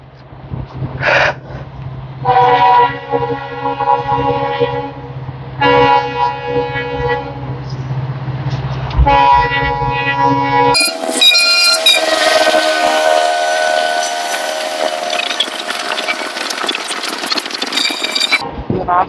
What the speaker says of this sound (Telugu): ఇక్కడ ట్రైన్కి గేట్ పడింది, ట్రైన్ వస్తుంది